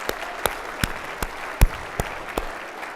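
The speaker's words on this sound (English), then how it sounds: "let's give them another round of applause" A hall audience at the ASHRAE Annual Conference members' plenary session applauds in a steady, dense wash of clapping, punctuated by a few sharper, louder claps, with no talking.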